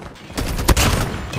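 A single loud, close gunshot lands a headshot in a mobile shooter game, a sharp crack standing out over a dense background of game noise and gunfire.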